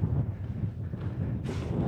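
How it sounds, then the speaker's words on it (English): Wind buffets the microphone on an exposed ridge along the Skye Trail, a low continuous rumble with gusts swelling near the end. "at the moment it's a bit exposed and windy"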